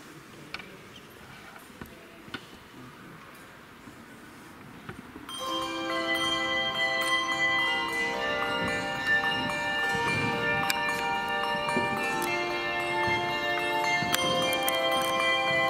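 A handbell choir plays in concert in Ostrava, a full ensemble of ringing tuned bells entering after a quiet hall pause and sustaining dense, overlapping chiming tones to the end.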